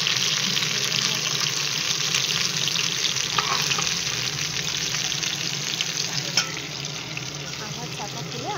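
Potatoes frying in a pan for a Bengali katla fish and potato curry, a steady broad sizzle with faint stirring scrapes running throughout, close and continuous with no voices.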